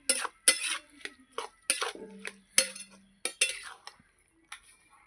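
A metal spoon stirring ash gourd curry in a pan, with a series of distinct clinks and scrapes in an uneven rhythm, close and fairly crisp, fading to quiet near the end.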